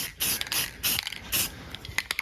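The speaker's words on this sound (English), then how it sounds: "So I'm just giving these an aerosol overhaul, the rattle can here." Aerosol rattle-can spray paint applied to 1974 Dodge Dart suspension parts at home: several hissing bursts of spray, each about a third of a second, with short pauses and small rattling clicks between them.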